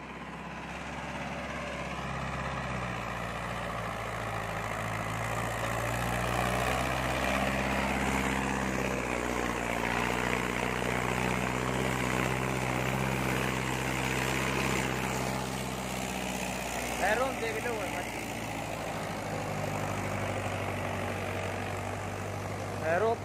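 Trackstar 550 tractor engine working a field, a continuous loud diesel drone with steady low harmonics that swell slightly midway, running throughout with occasional clanks.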